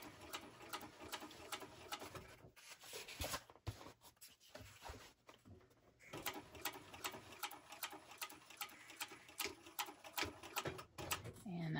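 A sewing machine stitches a bucket bag in rapid, rattling bursts of needle strokes, pausing briefly around the middle while the presser foot is lifted, then resuming its quick mechanical clatter close to the mic.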